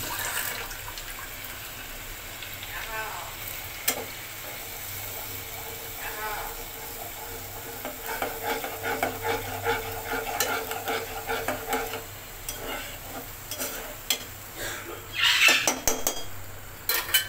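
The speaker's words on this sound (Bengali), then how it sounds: "এবার এই পেস্টটাকে ভালো করে কষাতে হবে" Spice paste for a katla fish head dish stirred and fried in a pan, with scraping of a spoon against metal and a soft sizzle, the scraping growing busier and louder toward the end.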